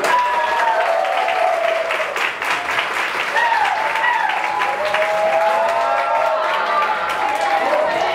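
An audience applauds at a fashion-walk event, with dense, continuous clapping filling the room throughout and cheering and voices mixed in beneath it.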